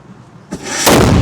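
A single loud ceremonial cannon blast booms at a November 11 Independence Day ceremony in Krokowa, Poland, after a brief quiet moment, with a heavy rumbling tail that carries on to the end.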